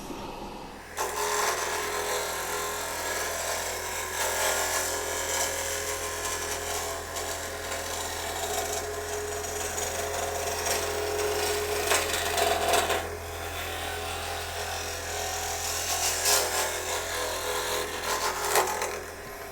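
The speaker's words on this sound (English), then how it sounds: "I'm going to take a scraper, see what we got." A hand scraper works across a mesquite wood bowl that was finished with a fast-hardening catalyst resin, giving a continuous raspy scraping and rubbing sound, close and fairly steady, with slight surges and brief pauses.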